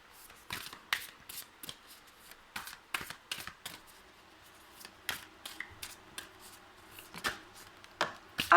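Oracle cards handled, shuffled and drawn by hand, giving a run of crisp, brisk card flicks and slaps at irregular intervals, close up and fairly quiet, with no talking.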